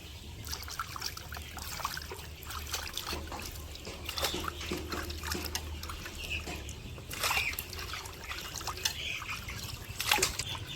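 Water trickles and splashes steadily as fish are washed outdoors in a village home, a continuous close, low-level patter with small drips and bursts throughout.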